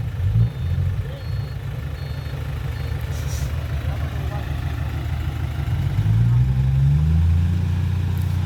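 A tractor driven by the big boss rumbles with a low, steady engine drone that swells near the end as it works harder pushing, with people talking over it.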